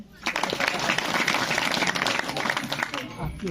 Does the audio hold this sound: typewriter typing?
no